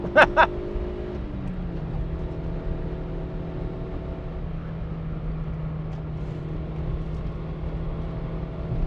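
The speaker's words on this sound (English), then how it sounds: "Now I can accelerate again as soon as the road goes flat." Toyota Yaris engine droning steadily inside the cabin while driving the Nürburgring, its pitch dipping early and then holding a constant note, with a couple of brief tones at the start.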